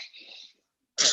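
A child sneezes once, sharp and close, after a brief stretch of quieter breathy sound indoors.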